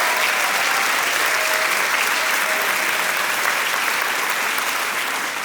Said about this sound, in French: Est-ce qu'on peut applaudir bien fort nos mamans, nos épouses, nos sœurs,